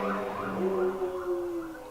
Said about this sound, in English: Somebody is blaring like fire sirens outside my door right now.